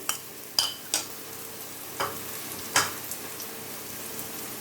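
Crushed green chillies dropped into hot oil with cumin potatoes, giving a steady low sizzle with several sharp spatter bursts and stirring scrapes spaced through the clip, close and moderately loud, with no talking.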